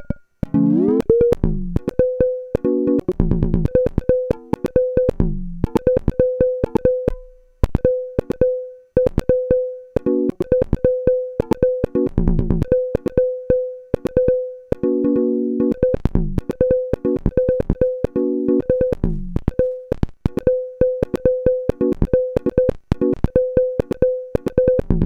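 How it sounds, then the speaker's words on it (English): TipTop Audio Z DSP module with its Spring Wave card, running fully wet, fires a fast string of short, loud, tonal percussive digital hits with a steady ringing pitch, some brief gaps between bursts. "So that's the Spring Wave card, a great set of more complex digital synthesis algorithms that provides a lot of great tones"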